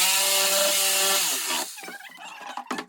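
A power saw cuts through recycled skateboard wood with a loud, steady harmonic whine that drops in pitch and gives way to rough rasping and scraping, heard close up.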